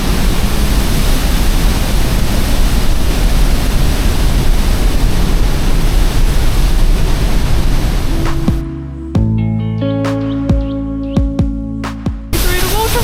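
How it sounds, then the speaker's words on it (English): Loud, roaring rush of a waterfall dominates close up for most of the stretch as people walk down beside it, then the roar drops away abruptly and is replaced by quieter, clattering handling noises. "we're going to try and walk down next to the waterfall"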